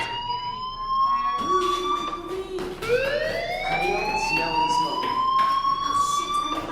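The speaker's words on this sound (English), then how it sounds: "Hey, do you hear that fire alarm?" A wailing fire alarm in the video game Life is Strange sweeps up and down in pitch, loud and continuous, with layered tones and some background noise.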